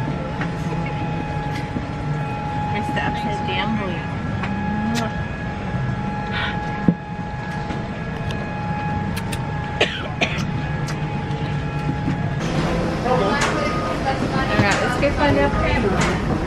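Steady rumble of a train arriving at Disney World, with a constant humming tone, people talking nearby, and a few sharp knocks.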